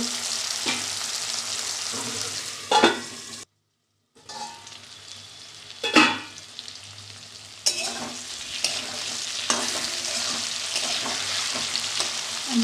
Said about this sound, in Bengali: আরেকটু ভেজে নেব